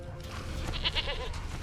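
A goat bleats in The Witcher 3 video game, a couple of short nasal calls heard close over a steady background ambience.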